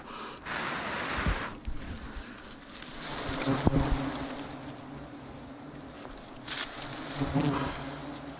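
Bees swarming around a wild bee nest outdoors, a steady droning buzz with surges and fades as insects pass close, against a breezy background.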